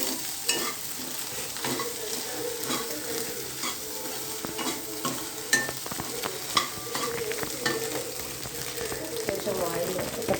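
Chilli masala sizzles and fries in oil in a pan while a spoon stirs and scrapes it, a steady crackle with clinks of metal, and someone talks over it.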